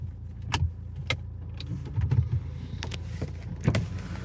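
A used category N car's engine idles at low volume, a soft steady rumble with a few light clicks and knocks on top, and nobody speaking.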